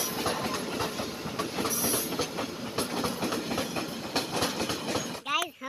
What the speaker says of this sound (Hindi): तो गाइस हम लोग का जो है ट्रेन आ चुकी है